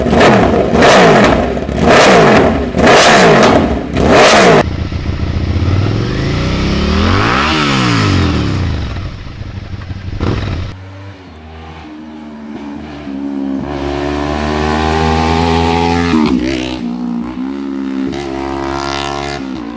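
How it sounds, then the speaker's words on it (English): A BMW S1000RR sportsbike fitted with a Project SC exhaust blips sharply several times, then sweeps through long revs and upshifts, its loud rasping howl rising and falling alone. "Riding with Tom can tell you all about how nasty his S1000RR sounds with the Project SC exhaust"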